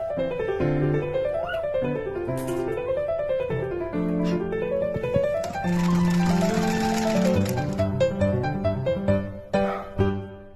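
A sewing machine stitches bias binding onto handmade indoor slippers, its motor whirring steadily and close, with speed changes and a few stops and starts near the end.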